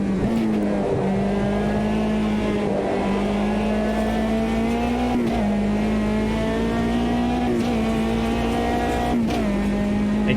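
Metalmoro MRX race car engine in the racing game Automobilista 2, a steady high-pitched drone holding near full revs, with brief dips at several gear shifts, loud and continuous without talk.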